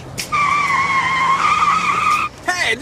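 A car skids with one long, loud, steady tire squeal lasting about two seconds, close by, then cuts off and is followed by a short burst of rougher noise.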